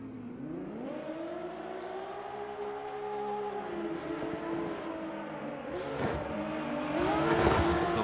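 A Heinz Nissan 370Z and a BMW drift car launch at a Silverstone race start. Their engines rev in rising and falling whines that climb through the gears, with a burst of louder roaring and tyre noise at the end.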